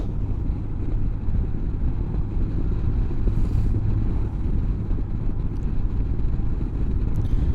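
A 2016 BMW R1200R motorcycle out on a ride in Central Florida, its engine a steady low drone blended with heavy wind rush across the microphone, continuous and close.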